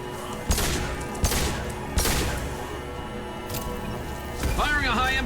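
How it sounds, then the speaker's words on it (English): A high-impact gunshot in the video game Mass Effect fires as sharp, loud cracks at a steady interval, with voices and game effects around them. "Firing a high impact shot!"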